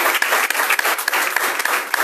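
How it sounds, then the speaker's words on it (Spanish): Church congregation clapping during an evening service, a loud dense round of hand claps with some sharp individual claps standing out, continuous for about two seconds. "¿Le quiere dar unas palmas a la palabra en esta noche?"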